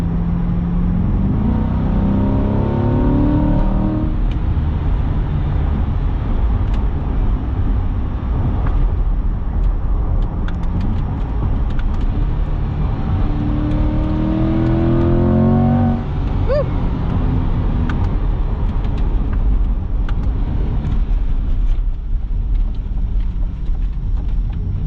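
Engine of a 2021 Chevrolet Corvette Z51 pulling hard under acceleration, loud and close with rising revs through gear changes, a steady roar filling the whole stretch.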